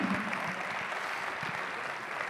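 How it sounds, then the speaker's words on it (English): Audience applause at the close of a tourism industry conference talk, a steady wash of clapping that holds evenly at moderate level throughout, with no voices on top. "I would like to give a big applause."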